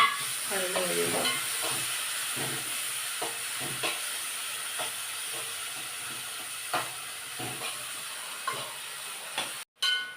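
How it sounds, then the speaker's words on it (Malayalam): Chopped tomatoes sautéing in a pan with turmeric, green chilli, ginger and garlic, a steady close sizzle and hiss broken by regular scraping stirs, cutting out briefly near the end. "ഇനി തക്കാളിക്ക ഇടുക. തക്കാളിക്ക ഇട്ട് നല്ലപോലെ വഴന്ന് കഴിയുമ്പോൾ"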